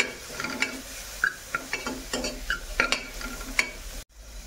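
Spinach and turmeric stirred in a pan for baby's khichdi, close spoon scrapes and light taps over a soft sizzle, ending in a short silence.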